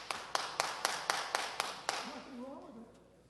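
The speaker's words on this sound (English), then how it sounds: "that kind of applause to disrupt the meeting" Applause bursts out at a city council meeting in a short run of sharp, evenly spaced claps that fade as a voice starts speaking over the tail.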